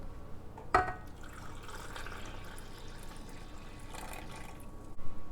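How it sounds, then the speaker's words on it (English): After a sharp clink, warm water pours steadily into a mixer bowl for bread dough for several seconds, soft and close, ending with a light thud. "Add 1 1/3 cup warm water."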